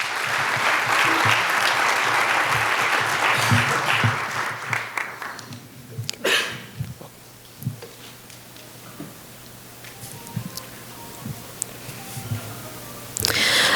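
An audience at a United Nations commemoration event applauds to welcome Ms. Sarah Idan: steady, dense clapping for about five seconds, then it thins into scattered claps and quiet room noise, with a brief swell near the end.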